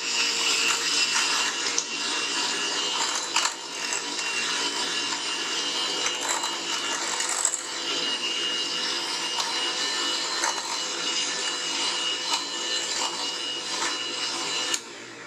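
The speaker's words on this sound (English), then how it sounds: "Then I wanted a hand mixer." An electric hand mixer runs continuously through corn dip with a steady, close buzzing whir, broken only by slight scraping variations as the beaters move around the bowl.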